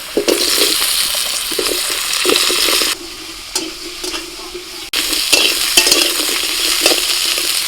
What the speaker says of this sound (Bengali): সবজি খুব বেশি ভাজবো না তো হালকা করে ভেজে নিলেই হবে